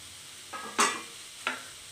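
Beetroot and moong dal curry frying in a covered pan, with a soft sizzle and a couple of brief scraping stirs close by. No talking.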